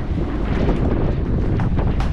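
Steady wind gusting across an open microphone, a constant low rumbling roar with slight surges, no voices.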